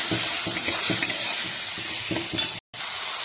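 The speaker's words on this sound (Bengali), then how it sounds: "হলুদ দিয়ে একটুখানি ভেজে নেব মশলাটা" Spices with turmeric frying in a pan while preparing a Bengali potol chingri (pointed gourd and prawn) dish, a steady close sizzle broken by rhythmic stirring scrapes and a brief silent gap near the end.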